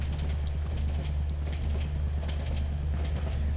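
Train rumbling steadily in the horror video game Cry of Fear, a continuous low, loud drone of rolling rail cars with faint rhythmic clatter throughout and no talking.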